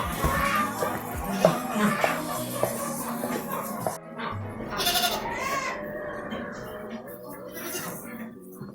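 A goat bleats several times among loud, busy background noise, with dogs and voices nearby, on a duck farm.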